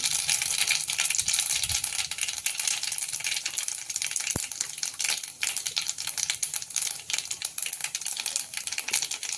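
Mustard seeds and cumin sizzle in hot oil over a low flame while preparing a kurdai vegetable dish, a steady, dense crackle and spatter running throughout with no voices.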